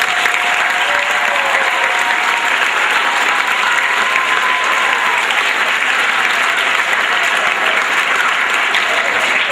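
A school audience gives sustained, loud applause for the girls' soccer team that won a state championship, a thick crowd of clapping that stays steady and full for nearly ten seconds.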